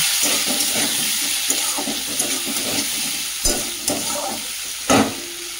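Beans and potatoes stirred in a pan with salt and turmeric, a steady sizzle running under repeated scraping strokes of a spoon, with a few sharper knocks against the pan near the end.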